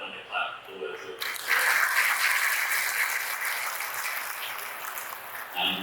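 A crowd at the inaugural ceremony of the Flynn Sports Complex breaks into applause after a short pause, the clapping swelling quickly and holding at a steady, moderate level before easing slightly near the end.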